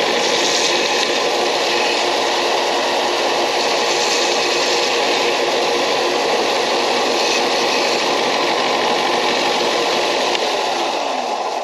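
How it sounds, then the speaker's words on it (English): A belt sander grinds continuously, steady and loud, as it rounds off the cut end of an air assist hose for a K40 laser cutter; no voices are heard over the motor's whirring hum. "And you can use a belt sander"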